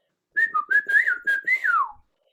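A whistled phrase mimics a spoken hunting call that means "come over here and let's go hunting," heard as a loud, clear run of about six linked, pitch-gliding whistle notes that ends in a falling slide, alone against silence.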